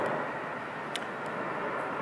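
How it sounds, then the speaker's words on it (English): An airplane passes overhead as a steady, broad, faint engine roar above an outdoor deck. The roar holds even for two seconds, with a couple of small clicks and no speech. "Hello, plane."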